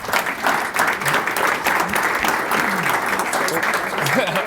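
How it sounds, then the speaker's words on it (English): An audience applauds a panel at the close of a property market discussion, with loud, sustained clapping from many hands, a few whoops and voices rising over the steady roar. "I'm sure you guys will join me in a round of applause."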